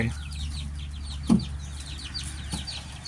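Chickens on a farm cluck softly and intermittently over a steady low background hum, with one slightly louder cluck midway, fairly close but quiet.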